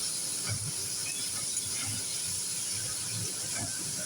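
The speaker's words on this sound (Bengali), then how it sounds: "চলো আলুটাকে একটু ভাজা ভাজা করে নিই" Potatoes seasoned with turmeric and salt fry in a home kitchen pan, a steady close sizzle and hiss that holds level throughout with soft crackles and no voices.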